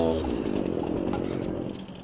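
A chainsaw running hard as it cuts into a tree branch beside a highway, a loud close engine snarl with buzzing chain rattle that sags slightly near the end as the blade binds.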